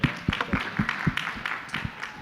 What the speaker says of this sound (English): if everybody can just give them a round of applause